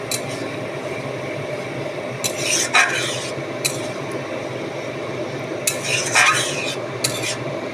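Kabuli chana with mutton mince simmering in a pot with a little added water, giving a steady bubbling sizzle, with a few sharp spoon scrapes and clinks against the pot.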